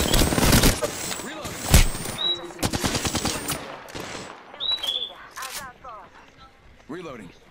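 Rapid video game gunfire in close automatic bursts, loud and crackling, with a voice talking during and between the volleys.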